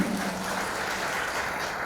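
Students from Kediri city junior high schools applauding at a heroism seminar, a steady, dense wash of clapping from a hall full of people, even in level throughout.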